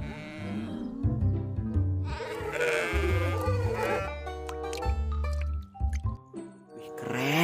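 A toy sheep gives a series of wavering, nasal bleats, loud and close, among squishy handling noises of toys in a colourful ball pit; short pauses break up the calls.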